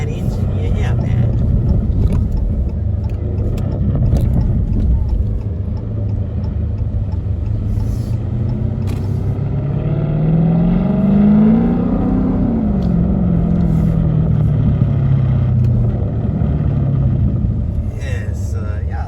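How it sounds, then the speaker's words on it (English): A Lamborghini Urus with a mid-muffler delete rumbles loudly and close, its deep exhaust droning and revving upward near the middle before easing down. Scattered sharp pops and crackles sit in the exhaust note, and people talk over it. "A little backfire from that engine."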